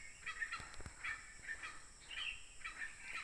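Wild junglefowl calling from a forest during a morning hunt, a series of faint, distant crowing calls repeating every second or so over steady insect-like background hiss.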